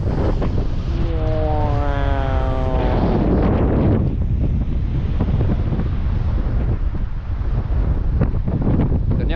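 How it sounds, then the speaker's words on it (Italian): Strong wind at Cabo de Gata on the Spanish coast buffets the microphone with a heavy, continuous roaring rush, loud and unbroken throughout, with a brief tonal voice-like sound early on. "Ecco, è super forte il vento"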